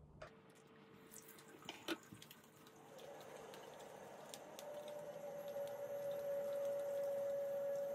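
Water runs steadily from a tap into a sink during handwashing, faint at first and gradually swelling into a fuller, louder rush with a thin tonal hiss as the flow continues, close by with no talk.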